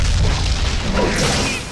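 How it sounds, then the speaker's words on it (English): A wake-up bomb goes off in a video game: a loud, deep, rumbling blast that fills the short moment and fades slightly at the end. "It's always satisfying when they die from the wake-up bomb."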